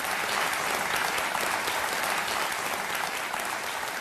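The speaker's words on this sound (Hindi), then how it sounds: "तालियां बज जाएं इनके लिए।" Steady, dense applause from a large television game show studio audience, clapping continuously and loudly without a break.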